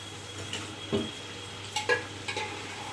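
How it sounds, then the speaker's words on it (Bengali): Meat goes into a pan of cooked-down spiced masala and sizzles steadily nearby, while a spoon scrapes and knocks against the pan in a few short bursts. No voices. "মশলা কষা কমপ্লিট, এবার আমরা মাংসটাকে দিয়ে দিই।"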